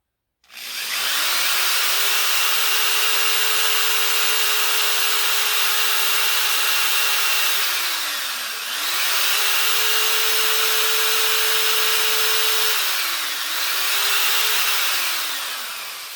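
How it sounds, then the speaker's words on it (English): A power drill whines steadily as it bores pilot holes for a rear mount, slowing and speeding up twice in three long runs, close and loud, with no talking. "making sure to drill straight"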